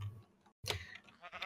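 A sheep bleats in a Minecraft modpack, Agrarian Skies 2, with two short, close bleats split by a brief silence.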